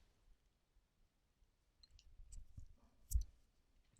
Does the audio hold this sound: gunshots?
no